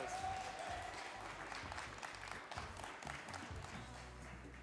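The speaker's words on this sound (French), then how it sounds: "Cédric Vincent et Fabrice Roche, qu'on peut applaudir bien fort, s'il vous plaît" Steady applause from an audience, a dense continuous patter of clapping that holds for several seconds.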